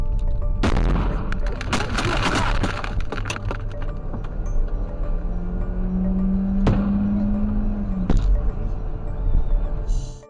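Mortar projectiles hitting near a caravan of evacuating civilian vehicles in the Kyiv region, with several sharp, loud cracks and booms spread over ten seconds against a background of vehicle rumble and faint voices.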